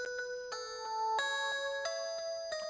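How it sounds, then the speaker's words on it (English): A gritty synth bell plays a slow series of struck tones, each ringing with bright, slightly distorted overtones, one after another in an uneven melody. "It's like a slightly distorted, saturated bell sound."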